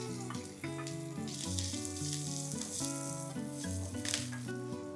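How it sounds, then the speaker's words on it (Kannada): Crushed garlic sizzles in hot oil with curry leaves and chillies, a bright, steady frying hiss under clear background music, with no talk. "ಇವಾಗ ಇದಕ್ಕೆ ಜಜ್ಜಿರುವ ಬೆಳ್ಳುಳ್ಳಿ ಹಾಕೋತಾ ಇದ್ದೀನಿ"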